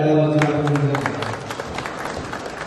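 Audience applause at a business group's office inauguration in Talegaon Dabhade, a dense, steady patter of many hands clapping at moderate distance, fading slightly as a voice trails off at the start.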